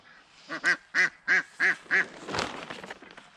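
A duck quacks six times in a quick, evenly spaced series close by, followed by a brief rustling noise.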